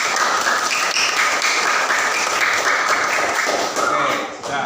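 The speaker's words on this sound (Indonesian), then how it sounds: "Tepuk tangan untuk kelompok B." A classroom gives a steady burst of clapping for a student group coming forward, dense and fairly loud throughout, easing slightly near the end.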